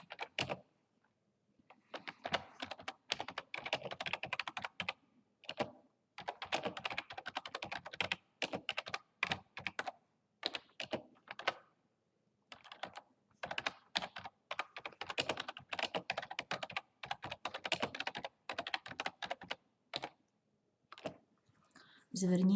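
Typing on a computer keyboard to enter a question into Google Forms, bursts of quick close keystrokes broken by short pauses, with a voice speaking at times.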